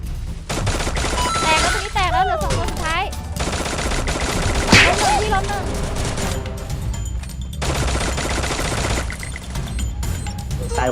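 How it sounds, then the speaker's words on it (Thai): Gunfire in the Free Fire video game: dense, continuous bursts of rapid shots layered over game music and effects, loud and sustained across the whole stretch with brief pauses, no talk. "พี่มันยิงกันอยู่"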